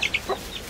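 Chickens give a few quick, close clucks in rapid succession.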